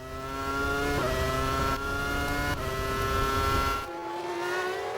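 Formula One cars from the 2001 season accelerate back to full speed after a safety car period, loud screaming engines climbing through several gear shifts as cars pass close by, with no voices.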